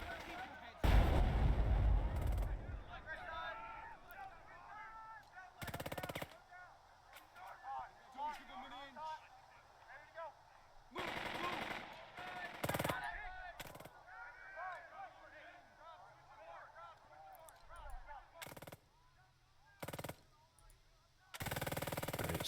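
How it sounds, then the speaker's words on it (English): Artillery booms and gunfire in the wartime tactical game Burden of Command, loud bursts and blasts cutting in repeatedly at intervals, with someone talking in between. "German artillery booms."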